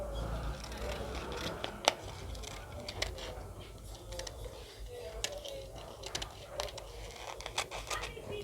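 Scissors snip through blouse fabric pieces while cutting a twelve-piece blouse with a front zip, giving soft, irregular cutting clicks and scratches close by over a low background hum, with no talk.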